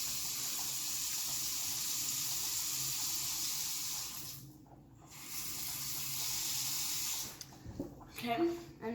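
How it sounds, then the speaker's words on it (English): Water running from a kitchen tap into a pan as it fills, a steady hiss with a short break midway, then ending in some clattering handling sounds. "I'm going to fill the pan up with water about halfway"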